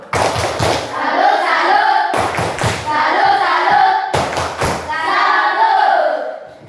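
A classroom of children performs a rhythmic salute clap in three repeated bursts, each a quick pattern of sharp claps and thumps mixed with chanting voices, separated by brief pauses.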